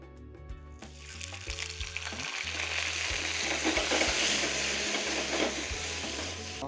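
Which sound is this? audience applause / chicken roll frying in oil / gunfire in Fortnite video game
chicken roll frying in oil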